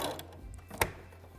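A sewing machine stitching down a fabric spring banner runs faintly and steadily, with one sharper mechanical clack partway through.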